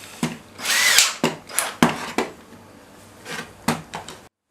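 Power drill boring through a Wolfcraft dowel jig guide into a wooden workpiece, a close, loud whirring burst followed by several short sharp knocks and clicks as the bit and jig are handled, with no talking.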